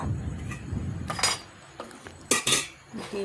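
A pan of sugar and water is set down on a stovetop, giving a few sharp metallic clanks and scrapes close by, with softer handling noises in between and no talk.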